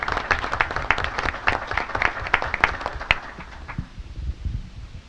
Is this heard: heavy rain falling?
no